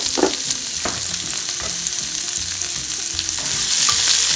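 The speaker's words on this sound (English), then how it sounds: "we're going to saute some onions" Onions sauté in hot olive oil in a pan, a loud close sizzle with a few quick stirring knocks and scrapes, no talking.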